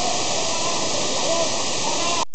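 Coban Watu Dasar waterfall near Gunung Putri Tidur in Malang roars as a loud, steady, close rush of falling water, unbroken apart from a momentary dropout near the end.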